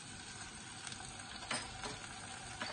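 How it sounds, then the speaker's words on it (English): Chickpeas sautéing with lime juice and sugar for a molee sauce, a steady soft sizzle with occasional brief stirring scrapes, fairly quiet and close, no talking. "Saute this well."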